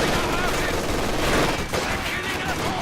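Machine gun fire in Company of Heroes 2 multiplayer, a dense continuous rattle of rapid automatic bursts mixed with other battlefield gunfire, loud and close throughout.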